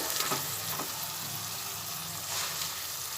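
Water poured into hot oil in a pan for a Bengali fish dish, Doi Vola, giving a steady, loud, broad sizzle that holds throughout with slight swells and faint stirring.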